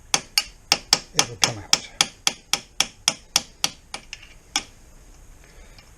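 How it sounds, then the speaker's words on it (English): Metal-on-metal tapping as a cotter pin drives a pin loose during a foot peg lowering kit install on a BMW R 1250 RT motorcycle: about fifteen sharp, close taps in a steady rhythm that slow and fade toward the end, with brief speech. "that pin now has started to come out because I'm tapping it with this cotter pin"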